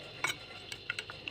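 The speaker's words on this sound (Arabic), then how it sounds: "احط معلقتين بشر برتقال اعيرهم كده" Sugar and orange zest stirred together with a spoon in a bowl for an orange cake, a few quiet, light clinks and scrapes spaced irregularly over a soft background.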